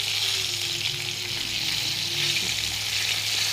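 Food fries in a pan of hot oil, giving a steady, close crackling sizzle over a faint low hum throughout.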